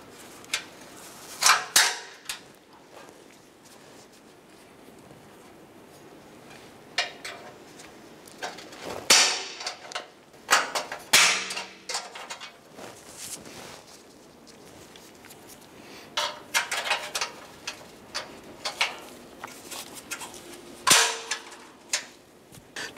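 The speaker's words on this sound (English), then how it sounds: "Just going to install our retainer clips here" Plastic retainer clips snapped into place on the front bumper of a 2011-2018 Dodge Ram 1500, giving sharp separate clicks and pops in irregular bursts, fairly close, with quiet handling between them.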